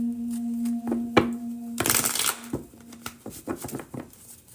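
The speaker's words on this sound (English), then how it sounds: "Shuffling for Tay" Playing cards shuffled by hand in a quiet room, with a quick riffling burst and soft flicks and taps of the cards before and after it, close and fairly soft above a low steady hum.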